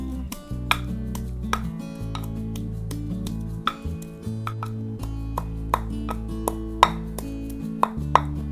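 A garlic clove is crushed with repeated sharp knocks and chops, a dozen or so hits in an uneven rhythm, over a steady background of music.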